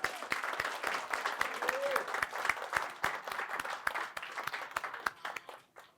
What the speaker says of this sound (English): Can we give both of them just one more round of applause?